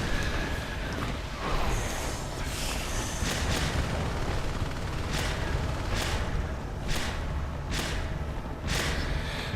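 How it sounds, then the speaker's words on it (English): Bio bomb attacks in Natural Selection 2, heard as a steady run of repeated splattering bursts, several sharp hits spaced every second or so, over a constant dense roar of battle noise. "I'm gonna switch the bio bomb to just get in there and start bombing people out."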